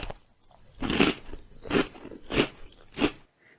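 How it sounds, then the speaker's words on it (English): Four loud, evenly spaced crunching bites of a taco, each a sharp crackling burst about half a second apart, close to the microphone with no talking. "I can just hear you crunching your food"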